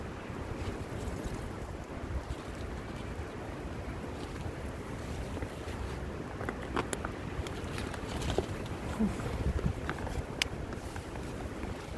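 Steady outdoor wind gusting around a tent as it dries, a constant broadband rush with occasional louder buffets, close to the microphone and with no talking.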